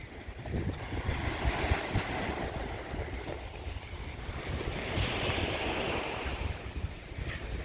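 Waves wash onto the white sandy beach at Laem Charoen, Rayong, a continuous surging roar mixed with wind buffeting the microphone, with no voices.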